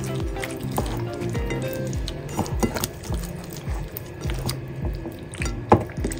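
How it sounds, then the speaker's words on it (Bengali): Rice being mixed with oil by hand for hilsa polao, wet squishing and sticky squelching in an irregular rhythm, close and fairly loud. "এখন আমি এগুলোকে মাখিয়ে নেব সুন্দর করে"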